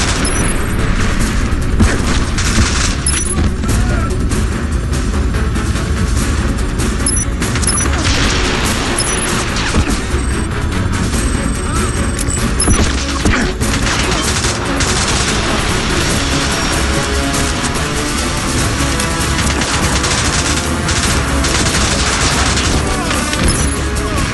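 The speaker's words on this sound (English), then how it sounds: "James, he's firing missiles!" Missiles fired during a chase in the video game James Bond 007 Blood Stone, with booming blasts, crashes and rapid gunfire packed into a loud, continuous barrage of explosive action and occasional voices.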